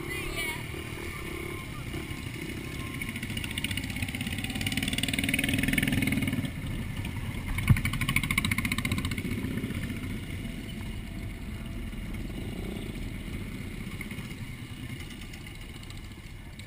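A motorcycle engine idles steadily at a scooter ride event held by an antique motorcycle club chapter, with people talking over the continuous low rumble throughout.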